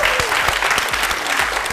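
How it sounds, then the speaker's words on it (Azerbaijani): An audience at a stand-up comedy show applauds in a dense, brief burst of clapping, loud and close throughout. "Alqışlara bax."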